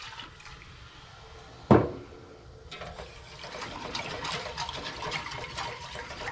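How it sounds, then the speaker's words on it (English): Milk and half-and-half are poured into a pan on the stovetop for mac and cheese. After a brief knock, a soft, steady liquid splash builds and continues to the end. "we're going to go ahead and add our milk. And our half and half."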